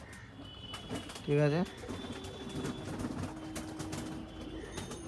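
A restless pigeon perched on a house rooftop gives one short, loud coo about a second in, standing out briefly from faint outdoor background noise, with a person speaking briefly.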